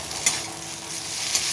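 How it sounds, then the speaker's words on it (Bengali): Egg chicken chowmein being stirred in a pan with chowmein masala, a steady close sizzle with two brief scraping clinks of the utensil against the pan. "এবার খুব ভালোভাবে নাড়িয়ে নেব সব।"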